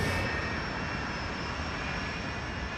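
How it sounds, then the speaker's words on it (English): A Tupolev 154 jet airliner's engines give a steady, loud, continuous roar with a high whine riding on top, unbroken and without speech. "Bashkirian Airlines Flight 2937 leaves Moscow. The plane is a Tupolev 154."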